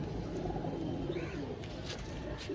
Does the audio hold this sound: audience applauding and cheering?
no